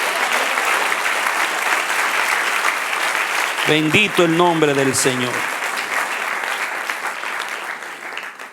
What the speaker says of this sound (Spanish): Dale un aplauso al que vive.